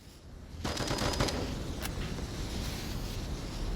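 Gunfire in a competitive video game match, a quick cluster of sharp shots followed by a lingering rumbling wash of ambient game noise, moderately quiet overall with no talk.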